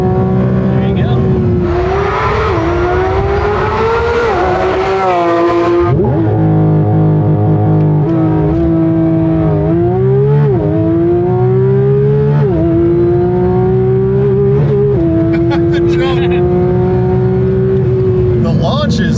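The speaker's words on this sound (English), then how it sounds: "The launch is savage. You get a little bit of tire spin" A Porsche 911 GT3 RS launches hard and pulls through several gears. The engine note climbs and drops again with each upshift, loud and close for the whole stretch, and voices are heard over it.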